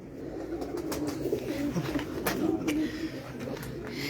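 Teddy pigeons cooing in a loft, a soft continuous murmur of low throaty coos from several birds, close and steady, with some chatter and background activity mixed in.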